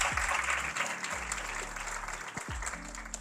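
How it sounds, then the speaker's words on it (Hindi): Audience applause for three champions, a steady patter of clapping from a seated crowd that holds throughout, with a few low thumps underneath. "तालियां होनी चाहिए उन्हें"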